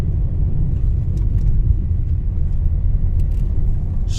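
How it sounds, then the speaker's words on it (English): A car engine labours climbing a steep road through Peyia village in Paphos, Cyprus, a steady loud low rumble that holds throughout with no talk over it. "The car is struggling to go up."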